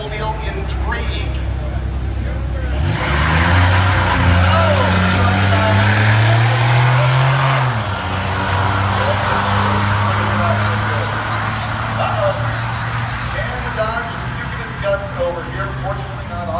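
A Chevy long bed pickup and a 3.8 supercharged Oldsmobile Intrigue drag racing: engines idle, then rev up hard and rise in pitch as they launch before settling back to a rumble, with an announcer talking throughout.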